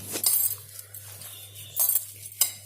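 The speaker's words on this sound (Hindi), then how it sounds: "और इनको अच्छी तरह मिक्स कर लेना है आपने।" A spoon clinks and scrapes against a dish while fish and mashed potato are mixed with salt and spices, a few sharp metallic taps separated by quieter stirring.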